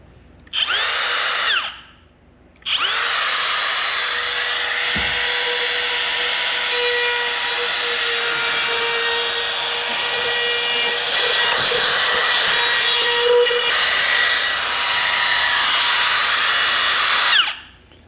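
Router fitted with a spiral flush trim bit, running as a loud, steady high whine that starts briefly, stops, then holds for about fifteen seconds before winding down, heard close with no talk.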